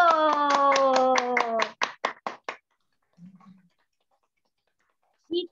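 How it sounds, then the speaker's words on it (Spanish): Children clap together in a church workshop, a quick run of hand claps that slows into a few scattered final claps, followed by a short murmur and a brief voice near the end. "Vamos a darle aplausos a Jesús Salvador"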